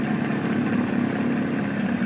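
An Oldsmobile 4-4-2 distributor spins on an old SUN distributor tester, giving a steady, close, even mechanical hum and whir with a continuous low drone that holds level throughout.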